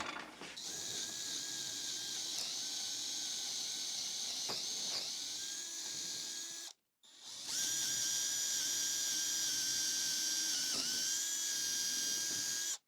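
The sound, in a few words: power drill drilling wood beams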